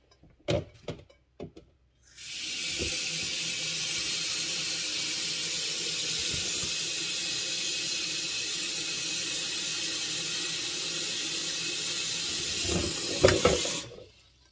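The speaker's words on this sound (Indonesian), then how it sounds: "Ini saya siapin wadah besar, terus saya isi air dingin." Steady rushing cold water fills a large container for soaking soybeans for tempeh, about eleven seconds, a loud broadband hiss, with a few knocks and clatters before and after.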